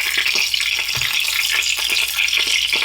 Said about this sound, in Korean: 자, 이제 기름이 막 튀기고 있잖아요.